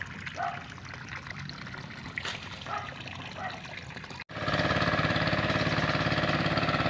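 Water pouring and trickling into a flooded rice paddy during land preparation, a steady liquid rush running under a low idling engine hum, growing louder and denser partway through.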